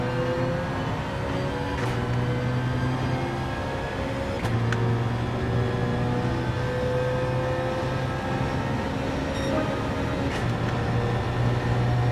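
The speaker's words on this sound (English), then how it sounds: "I could hear a car." Race car engines hum steadily in the Gran Turismo 7 racing game, a sustained droning tone with slowly shifting pitch and a few faint clicks, moderate and continuous without speech.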